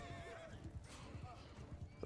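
Cavalry horses gallop and neigh in a Mount & Blade II: Bannerlord battle under the Realm of Thrones mod, with rapid close hoofbeats drumming steadily beneath loud whinnies.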